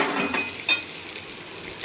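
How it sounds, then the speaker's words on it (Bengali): Jackfruit seeds fry in oil with salt and turmeric, a close hissing sizzle with a single sharp metallic clink of a utensil against the pan, no speech. "তারপরে আমি এই দানাগুলো, কাঁঠালের দানাগুলো একটু ভেজে নেব, নুন আর একটু হলুদ দিয়ে ভেজে নেব।"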